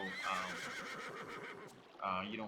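A horse whinnies over a busy Battle Realms game soundscape with a voice talking underneath, followed by a second shorter neigh near the end.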